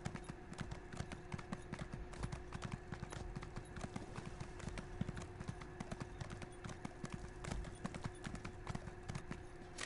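Steady clip-clopping horse hooves trot along in a quick, even rhythm in the video game Elder Scrolls Online, with a faint ambient hum underneath and no talking.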